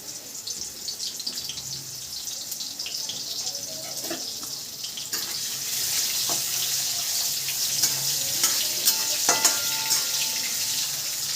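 Bombay duck (bombil) fish rinsed under a running kitchen tap, a steady hiss of water into a sink that grows fuller and louder halfway through, with occasional splashes and handling knocks, no voices.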